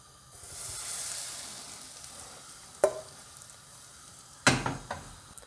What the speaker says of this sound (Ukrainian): На розігріту сковорідку ми додали олії, прогріваємо її